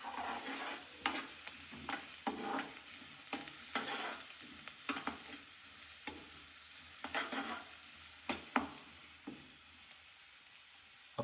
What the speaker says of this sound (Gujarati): આપણે એમને શેકાવા દઈશું ડુંગળીને થોડી વાર.